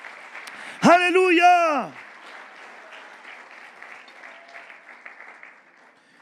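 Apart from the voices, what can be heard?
loud applause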